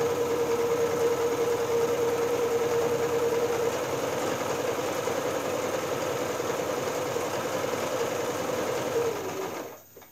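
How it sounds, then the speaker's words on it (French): A sewing machine stitches a small fabric phone-charging bag, a loud, close, continuous whirring run for about nine seconds that winds down and stops. "je suis en train de le coudre tout le long"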